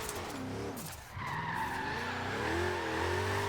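Drift car with worn, poor-grip tires sliding and skidding in Forza Horizon 3, a continuous loud tire squeal that wavers in pitch over a droning engine, with a brief dip near one second before the screech resumes.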